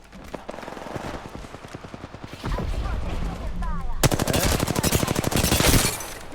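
Rapid video game gunfire in a tactical shooter match, bursts of automatic shots growing louder and denser toward the end, with players talking over the action.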